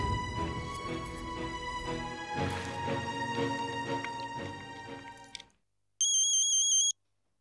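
A long melodic ringtone plays loudly and stops, then after a brief silence a short high electronic ring chirps for about a second.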